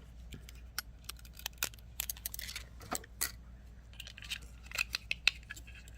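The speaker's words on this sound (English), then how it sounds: "Cut the wire." Brown jewelry wire is snipped with wire cutters while making wire rings with beads, giving sharp, scattered clicks and snaps close by, with light handling rattles between cuts.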